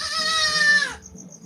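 A single goat on a stall-fed goat farm lets out one loud, close, wavering bleat that lasts most of a second and fades into a quiet shed, with faint background noise after.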